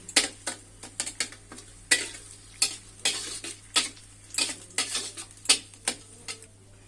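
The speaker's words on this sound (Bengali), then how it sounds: "আদা রসুনগুলো ভালোভাবে পেঁয়াজের সঙ্গে ভেজে নিচ্ছি।" Onions frying with ginger garlic paste in a pan, a soft sizzle under repeated sharp scrapes and clinks of a spoon stirring against metal, close up in an irregular rhythm and free of talk.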